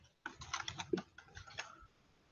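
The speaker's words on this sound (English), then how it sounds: "I'm having trouble typing." Quick bursts of key clicks come from a computer keyboard, close and soft, with an uneven rhythm that starts abruptly and trails off into near silence, with no talking.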